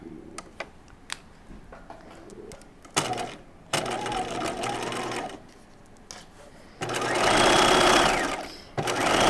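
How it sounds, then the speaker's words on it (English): Close sewing machine stitching along the folded edge of a halter top, with clicks and handling taps first, then short runs and a longer loud, steady burst of stitching. "I'm going to start stitching at the underlap folded side here, and just start stitching right at the edge of that fold."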